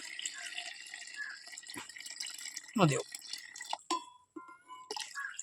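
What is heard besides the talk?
pouring water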